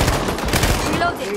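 SMG gunfire in a PvP shooter game, a short rapid burst of close, loud shots lasting about a second and a half.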